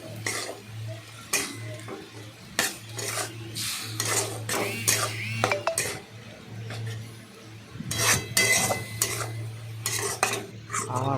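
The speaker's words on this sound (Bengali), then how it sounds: "এইবার এইটাকে ভালো করে নাড়াচাড়া করলাম," Katki fish with chili powder is stirred and fried in a pan for chochori: repeated scraping strokes of a utensil against the metal over a soft sizzle, with a steady low hum throughout.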